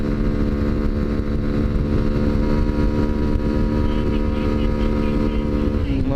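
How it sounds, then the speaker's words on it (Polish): Junak RX 1 motorcycle engine roaring loudly and steadily under strain while climbing a hill, with rushing wind noise over the microphone and a rising pitch near the end. "Silnik daje z siebie wszystko"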